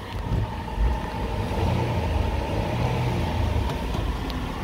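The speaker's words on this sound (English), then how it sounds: "I'll rev it up for you." A 2014 Ford Explorer AWD, a former police vehicle, idles with a low rumbling engine that swells slightly as it is revved, a steady close mechanical drone with no voices.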